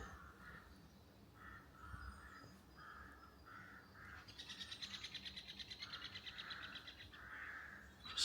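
A green woodpecker gives a repeated series of loud, ringing calls, followed by a rapid, laughing trill, heard outdoors against faint background hiss.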